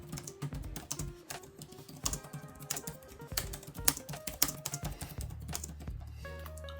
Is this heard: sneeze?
no